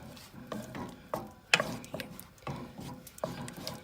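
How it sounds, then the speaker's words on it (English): A whisk stirs buffalo chicken dip in a bowl as the cheese melts, making repeated close scraping and clinking strokes at a steady rhythm of about two per second, with no talking. "So I'm mixing this, hoping that it will melt faster."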